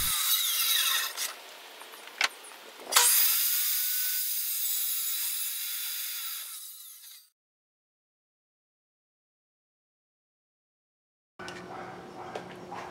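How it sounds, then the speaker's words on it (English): A table saw whines at high pitch making cross cuts through wood, surging louder as the blade bites, then cuts off into silence before starting up again. "I adjusted the fence on the table saw, and now I'm making the cross cuts"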